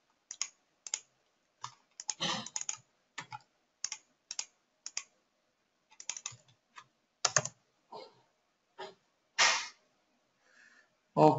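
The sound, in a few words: typing a search on a computer keyboard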